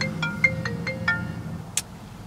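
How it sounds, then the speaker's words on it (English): A mobile phone ringtone rings in a series of short, evenly spaced electronic tones, fairly close and clear, ending with a brighter chirp. "So my phone's ringing"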